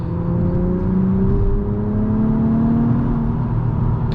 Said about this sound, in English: peppy engine